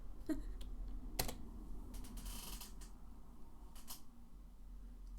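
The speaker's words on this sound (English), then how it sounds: "I didn't do the typing." Sparse, irregular keystrokes on a computer keyboard in a quiet room, a few sharp clicks and short bursts of typing close by over a low background hum.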